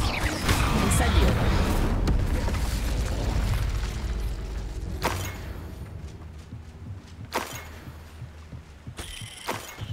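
Incendio fire spell cast in Hogwarts Legacy, a loud fiery whoosh and boom at the start that fades over several seconds, followed by a few sharp impacts.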